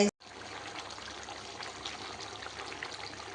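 Second-extract coconut milk is poured steadily into a pot of ada pradhaman payasam, making a soft continuous trickle and splash that runs unbroken after a brief opening click.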